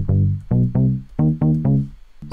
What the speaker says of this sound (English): So we got this bass line here called Tide and it sounds like this.